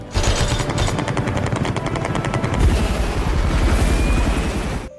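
Loud, rapid bursts of machine gun fire aimed at a helicopter roar continuously over a heavy helicopter rumble before cutting off abruptly.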